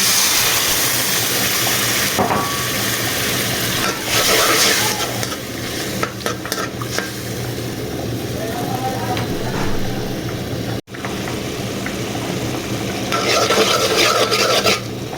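Spice paste and masala fry in a pan, a loud, close, continuous sizzling hiss with steady scraping and stirring strokes throughout, one brief dropout midway, no talking.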